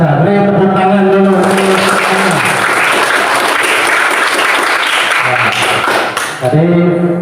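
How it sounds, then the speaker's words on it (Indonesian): An audience bursts into loud, dense clapping and applause that runs for several seconds before tapering off, with a voice speaking briefly at the start and again at the end. "Beri tepuk tangan dulu"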